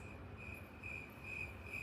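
Steady cricket chirping at a quiet, even level, a continuous pulsing trill with no voices, the kind of stillness used to mark an awkward silence.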